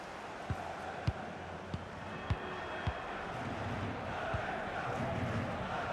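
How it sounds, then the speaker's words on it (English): Stadium crowd noise from a FIFA 20 Champions League match between Valencia and Chelsea, a steady broad roar throughout with a few sharp thumps and no speech. "Well, just listen to the crowd."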